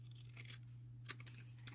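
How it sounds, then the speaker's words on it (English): Scissors trim excess designer series paper in a few quick close snips and slicing strokes over a faint steady hum, with no talk. "Bring in some scissors here, and we're just going to trim off"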